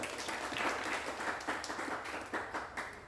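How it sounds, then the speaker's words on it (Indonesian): A seminar audience at a digital business talk gives a short round of applause, uneven bursts of clapping from a modest group that rise and fade over a few seconds. "Oke, tepuk tangan untuk kita semua."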